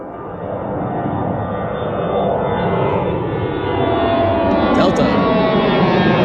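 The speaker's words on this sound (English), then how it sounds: "And there in the background, you can see the planes and the airport." Jet airplanes near an airport, heard from a riverside park along a trail, produce a loud, continuous engine roar that swells slightly over several seconds, close and steady.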